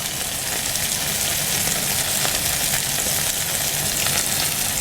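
Mushroom cream sauce with button mushrooms and cream sizzles and bubbles steadily in a pan on the stove. The frying hiss is continuous and close, with no talking.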